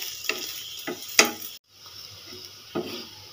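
Moong dal paratha frying in oil in a pan, a faint soft sizzle broken by a few sharp scraping and tapping clicks of a spatula, with a brief gap partway through and no voices.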